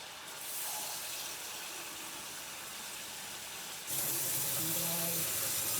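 Water running from a kitchen tap while cooking, a steady rushing hiss that grows suddenly louder partway through and continues alone.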